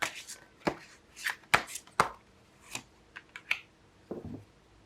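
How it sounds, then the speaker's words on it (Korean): Tarot cards are shuffled and drawn in a quiet room, giving a string of crisp, close slaps and riffles with short pauses between them and no talk. "그럼 5번 분들 조언 카드 한 장 뽑아볼게요."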